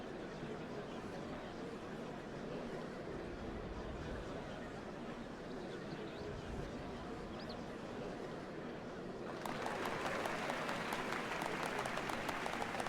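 A large crowd applauds at a ceremony in Final Fantasy XIV, steady clapping at a moderate distance that swells sharply louder and brighter toward the end.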